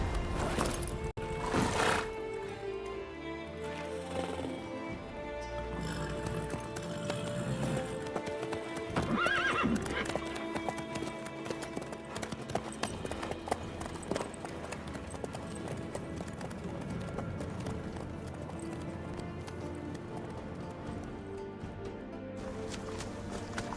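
Horse hooves clip-clopping steadily in the video game The Witcher 3, a continuous close rhythmic walk with a neigh early on, layered over game music and ambience.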